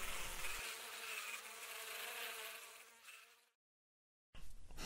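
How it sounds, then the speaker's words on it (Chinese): Cartoon flies buzz in a dense, close, steady drone that fades out into a moment of silence before the buzzing snaps back abruptly at the end. "苍蝇都在开 party 了。"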